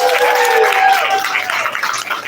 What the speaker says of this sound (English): give them a round of applause for coming out